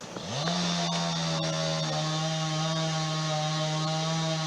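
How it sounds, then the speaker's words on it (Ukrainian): A chainsaw starts and then drones at a steady, loud pitch without letting up, during illegal logging in a forest. "наша знімальна група також почула характерний звук бензопили"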